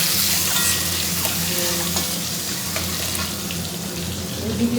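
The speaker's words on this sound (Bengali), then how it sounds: "আর এখানে দেখো ভেজে নিচ্ছি" Potatoes and spiced ingredients fry in a pan, a continuous close sizzle with faint watery crackle and a low background hum, steady and unbroken.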